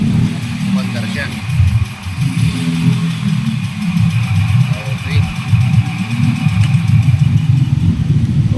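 A small engine chugs and clatters steadily at close range after being started, with a low throbbing idle running throughout. People talk over it.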